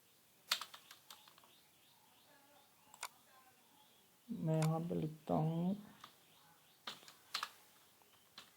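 HTML code being typed on a computer keyboard, scattered sharp key clicks close by with short pauses, while someone speaks briefly in the middle.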